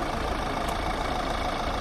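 Car engine idling steadily during a police traffic stop, a constant loud mid-low drone with broad noise on top, close and unbroken for under two seconds.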